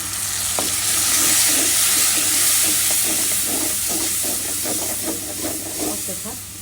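Spices sizzle and steam loudly after a little water goes into the pan with ginger, garlic, turmeric, chili, coriander and cumin for a fish vorta. A continuous hiss carries repeated scraping stirs and clinks.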